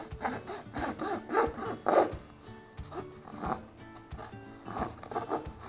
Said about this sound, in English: I'm right now going to use my cardboard saw to first roughly cut and take the shape